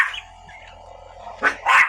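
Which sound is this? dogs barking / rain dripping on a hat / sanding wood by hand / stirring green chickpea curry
dogs barking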